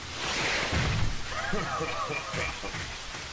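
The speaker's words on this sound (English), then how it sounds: "it's raining like hell!" Rain pours steadily in an animated fight between Bowser and Mecha Sonic, a dense wash of falling water running throughout as people talk over it.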